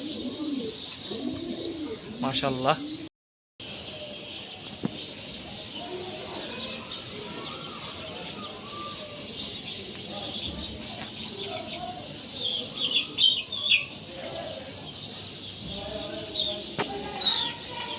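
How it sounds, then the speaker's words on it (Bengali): Pet pigeons coo repeatedly at close range in a home loft, soft rolling calls with occasional wing flutters, while a person speaks briefly now and then. "এখন তো উপরের কবুতরগুলো দেখেন আপনারা"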